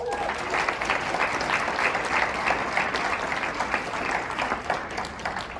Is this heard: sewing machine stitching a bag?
no